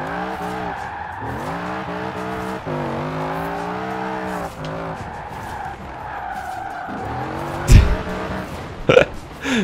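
An engine-swapped Ford F-100 in Forza Horizon 4 revs with a rich, buzzy harmonic tone, rising and dropping through gear changes, ending with sharp tire squeals and skids.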